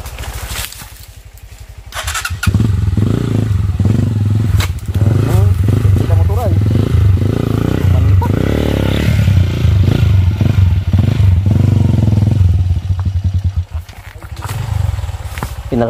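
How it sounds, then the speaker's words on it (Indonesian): Motorcycle on a trail in Pangasinan, its engine starting after a quiet moment and then running with a loud rough roar and clatter, with people talking. "Pinalagdaan ti motor toy."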